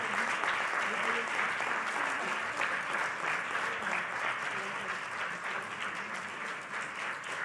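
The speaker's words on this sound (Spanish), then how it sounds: "Fuerte el aplauso a nuestra amiga Josefina Vázquez Mota, senadora de la República." A crowd at a public event for victims of child sexual abuse applauds senator Josefina Vázquez Mota with dense, sustained clapping that holds steady for over seven seconds and fades slightly toward the end, with voices faintly mixed in.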